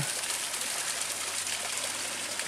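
Clear, cold stream flowing through a small river valley along a hiking trail in Greece, a steady, even rush of water with no voices.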